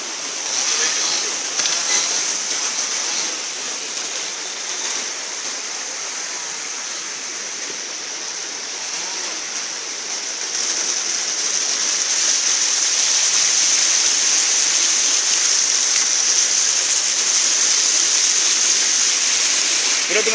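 Water in a river beside an old watermill in Messinia, Greece, rushes in a steady, full hiss that grows slightly louder partway through and continues unbroken with no voices.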